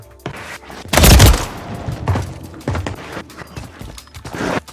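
Gunfire during a gunfight in Call of Duty on Rebirth Island: a loud, dense burst of rapid shots, then scattered sharper reports and mechanical clatter that trail off irregularly.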